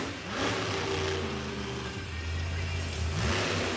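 A monster truck engine revs at an Outlaw Nationals arena show, a steady droning roar from some distance that rises and falls in pitch, with crowd noise faint beneath it.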